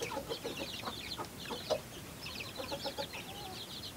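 Several chickens cluck in short, overlapping bursts as older and younger chicks jostle at a wire mesh fence, with scattered soft calls continuing steadily throughout.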